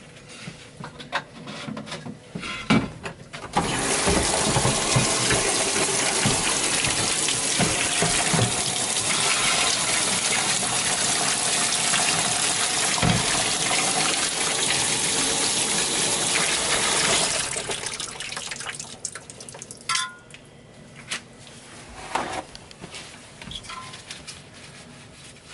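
Tap water runs over PCBs being rinsed, a loud, steady gushing stream lasting most of the stretch, preceded and followed by scattered handling knocks and splashes.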